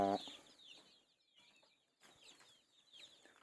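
Farm chickens cluck and scratch about after being let out of their coop, soft scattered clucks at moderate distance with a brief louder call at the start.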